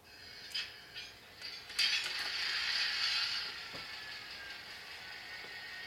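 Faint mechanical clicks, then a soft hissing, whirring run of a model locomotive with DCC sound on its track, steady and quiet throughout.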